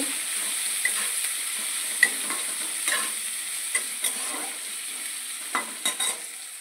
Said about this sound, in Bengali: তারপরে একটু পেঁয়াজ কুচানো, এগুলো একটু ভালোভাবে ভেজে নেব